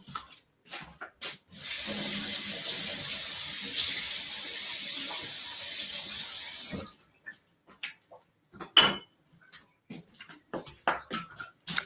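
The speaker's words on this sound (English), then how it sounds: "Let me rinse this out and put it away." Tap water runs hard into a kitchen sink for about five seconds as a sharp blender blade part is rinsed, followed by scattered clinks and knocks as it is handled and put away.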